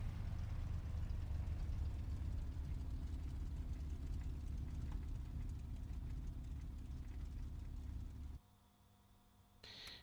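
A P-51 Mustang engine idling in the IL-2 flight simulator: a steady, loud low rumble with a throbbing mid tone, held at just enough throttle to keep running, then cutting out abruptly near the end, leaving a quieter hum.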